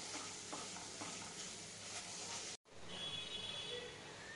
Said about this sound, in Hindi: अब मैं इसके अंदर घी के अंदर इन खजूरों को भूनूंगी।